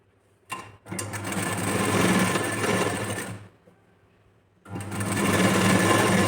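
A sewing machine stitches around the neckline of a princess-cut blouse, running loud in two close bursts with a brief pause between them, and no one speaks.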